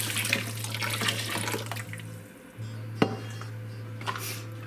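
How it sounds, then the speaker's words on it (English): Hot water running and splashing into a kitchen sink over dishes and utensils soaking with vinegar, a steady close wash of flowing water with a brief dip and a sharp clink partway through. "we're going to take our hot water and we're going to pour it over all of our items in the sink"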